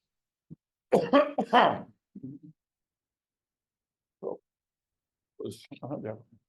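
A few throaty coughs in a quick cluster, then a lone cough after a pause and another short burst, close and otherwise quiet.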